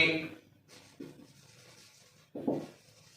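Pen or pencil writing by hand on paper while working an algebra problem, a soft scratchy rubbing in short strokes with brief louder bursts, heard up close and alone.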